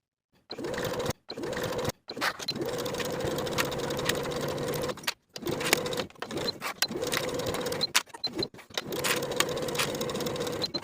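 A sewing machine runs long basting stitches around the outer edges of lined fabric pieces for a crossbody belt bag, in several loud, steady bursts broken by short pauses.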